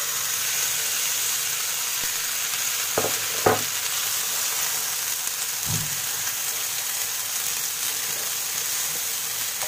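Pea paste sizzles and fries in a pan with asafoetida, a steady hiss through the whole stretch, broken by a few clinks of a spoon stirring.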